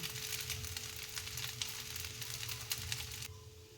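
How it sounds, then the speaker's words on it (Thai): Vegetables frying in a hot pan, giving a steady, close crackling sizzle with faint stirring clicks, no voices, running continuously before easing slightly near the end. "ทอดผักแซ่บๆ ค่ะ"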